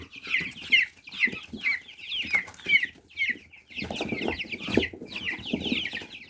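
Young winter-reared chicks of an old, nearly forgotten chicken breed cluck close by in a rapid run of short, bright calls with a few lower, fuller clucks toward the end, and no one speaks.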